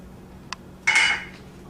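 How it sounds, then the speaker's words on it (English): Olives from a small can clink as they tip into a pot of raisin chili: a short metallic tick, then a brief bright scrape and clatter of tin against the pot, close and alone. "I'm adding a small can of olives."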